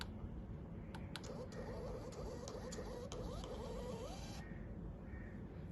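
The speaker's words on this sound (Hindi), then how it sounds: "ये देखें, इसने प्रिंट कर दिया इसको।" A cash counting machine prints a receipt, giving a steady close mechanical printer whir and rattling patter with small ticks, running continuously for several seconds with no talk.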